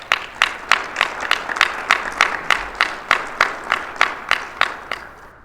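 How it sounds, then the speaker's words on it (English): An audience applauds at a mayor's State of the City address, with rhythmic, evenly spaced claps from a moderate crowd at a steady pace, fading slightly toward the end. "So I think we deserve a round of applause for that as well."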